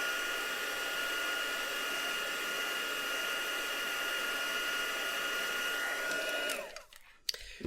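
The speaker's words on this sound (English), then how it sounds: "So I'm going to get a heat gun and just dry this one off." A heat gun blows steadily while drying a watercolour-stamped greetings card, a loud continuous whooshing hiss that runs unbroken for several seconds before cutting off near the end.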